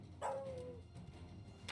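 A single short dog bark with a rising yelp tail sounds in the Final Fantasy 16 video game, moderately close over quiet game ambience.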